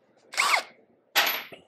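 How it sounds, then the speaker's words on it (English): A power drill fitted with a small 1/8 inch bit gives two short, close whirring bursts while piloting a hole through a mini trike's gas tank mount, separated by a brief silent pause. "Now I'm going to drill right through everything."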